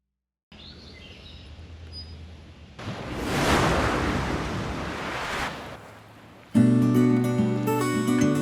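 Surf washing onto the sandy beach at Long Point Provincial Park, a broad rushing swell with wind that builds midway and then fades, followed by music starting near the end.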